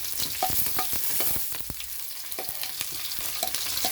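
Ingredients sautéing in a pan for a cassava and chicken curry, a close, busy sizzle broken by quick spoon scrapes and knocks at an uneven rhythm, with no talking.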